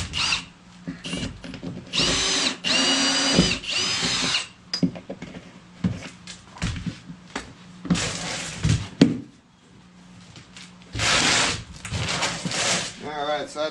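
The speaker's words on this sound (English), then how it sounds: "And got the hole drilled in right above the drain hole there." A power drill bores a hole through a plastic cooler just above its drain, several whirring bursts of varying length with scraping in between, close and loud, and a voice speaks between the bursts.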